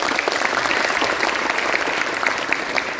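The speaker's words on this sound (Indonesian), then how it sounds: "Tepuk tangan buat Dian." Steady applause from an audience at a talk on youth and early marriage, dense and sustained clapping filling the whole stretch at even loudness.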